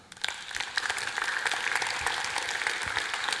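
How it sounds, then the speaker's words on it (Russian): Audience at a conference talk breaks into applause after a presentation, a steady mid-level wash of clapping that swells quickly and holds, with no voices over it. "Аплодисменты."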